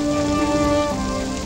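Steady rain falls in a continuous, even hiss, with sustained tonal music playing underneath and shifting pitch partway through.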